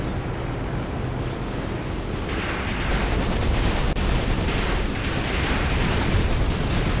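Artillery fire from Graviteam Tactics: Mius-Front striking anti-tank guns far off, heard as a dense, continuous rumble of distant blasts and crackling bursts that swells louder after a few seconds, with no voices.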